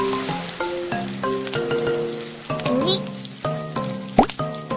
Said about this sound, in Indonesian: ayo kita mulai menggoreng telur